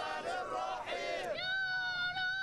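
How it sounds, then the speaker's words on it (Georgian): Crowds in the Cairo streets shout and cheer after a court verdict, a mass of rising and falling chanted voices, some sustained cries standing out over the din, at moderate distance. "ვერდიქტის გამოტანას ქაიროს ქუჩებში ცეკვით, ლოცვით და შეძახილებით შეხვდნენ."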